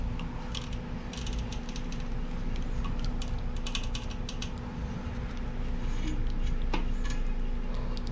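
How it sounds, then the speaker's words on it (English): Wrenches, with a backup wrench holding the body, turn a refrigeration line fitting on a walk-in cooler. Brisk ratcheting clicks and metallic ticks repeat close by over a steady mechanical hum. "You gotta have a backup wrench on your main one."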